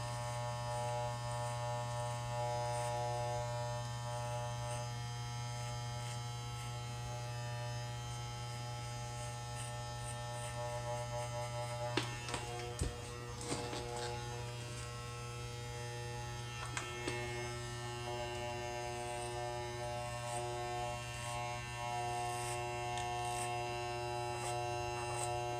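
Electric clippers buzz steadily and close up as they shave an undercut fade, a constant motor hum running the whole time with a few brief clicks and scrapes as the blade moves through the hair.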